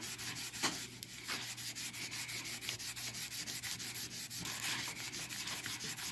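A starter generator part from a Sears Suburban is scrubbed by hand with a steady, repetitive rubbing and sanding sound, close and continuous.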